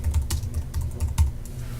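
Someone types a customer's name into a computer form on a keyboard. The keystrokes are rapid, irregular and close, with a low background hum and no talking.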